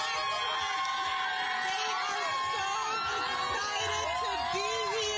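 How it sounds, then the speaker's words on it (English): Crowd at the Dodgers World Series victory parade in downtown Los Angeles, a dense, steady roar of cheering, whoops and shouts with a voice briefly speaking over it. "you can see the crowd is electric"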